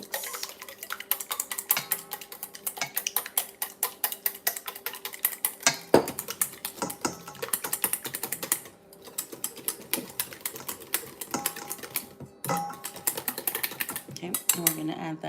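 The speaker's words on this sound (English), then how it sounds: "So you're gonna whisk the eggs" Eggs whisked briskly in a bowl for pancake batter, producing a fast, continuous run of close metallic clicks and taps against the bowl, with a couple of brief pauses.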